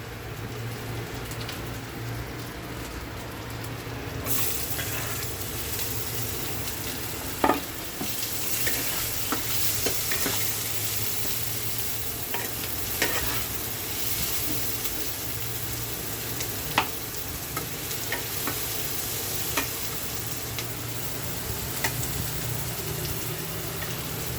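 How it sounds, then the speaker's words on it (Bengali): Onions fry in a pan with a dense, rain-like sizzle while a utensil stirs them, giving intermittent scraping taps over the steady hiss. "পেঁয়াজটা ভাজা ভাজা হয়ে এসছে"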